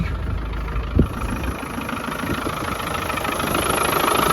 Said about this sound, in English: Very smooth running motor, hardly any vibration at all. Sounds exactly the way it should.